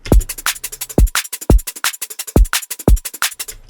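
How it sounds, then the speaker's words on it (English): A deep drum and bass beat, punchy low kicks under rapid crisp hi-hats and snares in a steady driving rhythm, close and loud. "what you're left with is your own drums, which sound like this"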